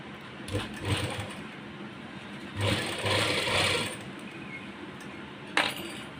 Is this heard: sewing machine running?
yes